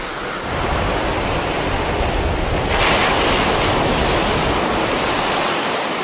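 Atlantic ocean waves on the Brittany coast roll in as a loud, continuous roar of surf that swells slightly midway, with some wind buffeting the microphone and no talk.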